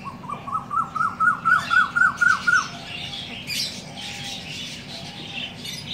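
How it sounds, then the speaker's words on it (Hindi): An Asian koel calls outdoors after the rains, a close run of about ten rising, repeated notes that builds in loudness and then stops, leaving a faint background hum with a brief distant rustle. "कोयल आके बैठी है, अगर आपको नज़र नहीं आएगी आवाज़ आई आपको"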